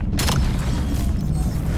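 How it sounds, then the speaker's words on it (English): A Semtex grenade blast in the Black Ops 7 beta, a single loud low boom with a rumbling tail that fills the short moment. "Incoming Semtex."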